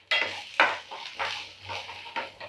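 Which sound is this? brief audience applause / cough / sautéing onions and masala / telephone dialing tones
sautéing onions and masala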